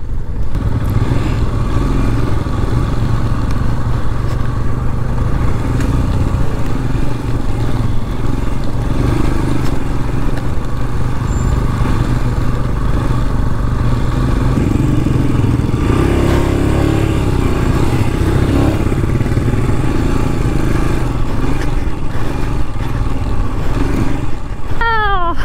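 A motorcycle is ridden off-road on a rough trail during a ride through Kurnool District in Karnataka. The engine drones loud and close the whole time, with rattling and shifts in revs as the bike works over uneven ground.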